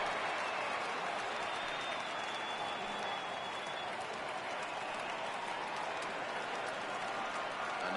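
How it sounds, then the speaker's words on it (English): Baseball stadium crowd in MLB The Show cheering on a full 3-2 count, a steady, dense roar of many voices and applause that stays loud and constant throughout. "Crowd gets up for the 3-2."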